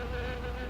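Wasps buzz in a continuous close, steady drone, a dense insect hum with no voices in this old B-movie scene.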